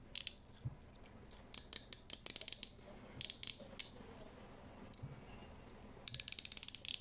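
HWC handcuffs ratcheting closed: a close, quiet run of rapid metallic clicks in several bursts, the last one fast and sustained, with no talking.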